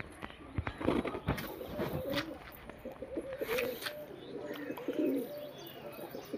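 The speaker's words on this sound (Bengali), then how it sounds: "সব কবুতর খাবার খাচ্ছে।" Flock of pigeons feeding, cooing softly in repeated low coos close by, with light wingbeats and scattered chirps, some quiet voices in the background.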